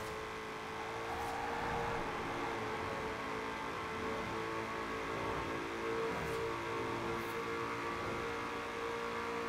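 Ford Falcon FE engine in Forza Horizon 4, held in a long sixth gear toward top speed, a steady, droning whir that climbs slowly and evenly, with no talk over it.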